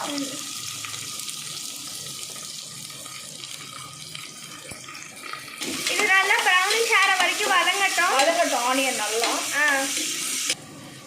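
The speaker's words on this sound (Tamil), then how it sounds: "வெங்காயம் ஃப்ரை ஆனாலும் போதும்" Onions fry in a pan for coriander-mint rice, a steady sizzle with stirring; about halfway through a louder, wavering, voice-like sound rises over the frying before cutting off near the end.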